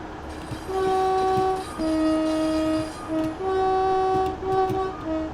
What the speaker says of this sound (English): There's an HST.